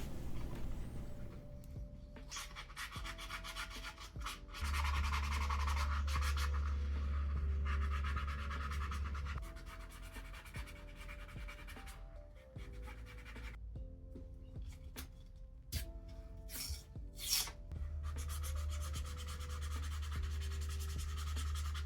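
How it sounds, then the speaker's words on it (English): Sandpaper rubs and scratches along a leather edge in repeated strokes, soft gritty bursts with short pauses between them over a quiet low hum. "I sand the leather in a variety of grits working up so I can get a clean finish"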